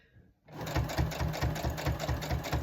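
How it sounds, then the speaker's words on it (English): After a brief quiet start, a sewing machine stitches through thick quilt layers in a fast, steady, loud rhythm of repeated needle strikes. "when the needle goes through the thick layers, it smacks"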